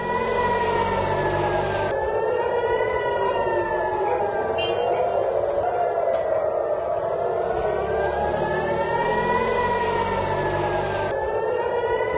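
Civil defense air raid sirens wail continuously in northern border towns, a loud rising and falling tone cycling steadily over the whole stretch, with no voices.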